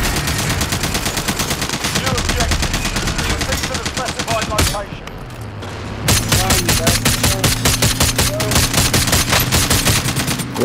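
Assault rifle gunfire in Call of Duty Verdansk, loud rapid full-auto bursts that keep up a steady fast rhythm, break off briefly around the middle, then resume, with game sounds underneath.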